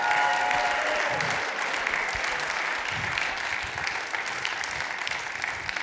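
A gala audience applauds in a dense, steady wash of clapping that stays loud and even throughout, thinning only slightly toward the end.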